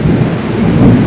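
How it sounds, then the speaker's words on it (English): Heavy rainforest rain pours in a dense, continuous roar, loud and close, with a low rumbling undertone and no voices. "That's like proper rainforest rain"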